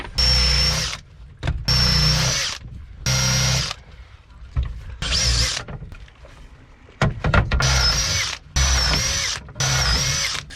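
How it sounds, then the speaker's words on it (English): A power drill countersinks holes for carriage bolt heads on a wooden scarphing sled used in wooden boat restoration. The drill runs in several loud, close bursts with short pauses between them. "Now to countersink a little bit for the heads of the carriage bolts."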